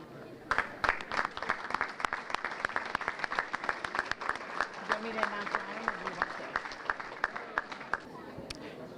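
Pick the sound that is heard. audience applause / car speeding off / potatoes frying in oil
audience applause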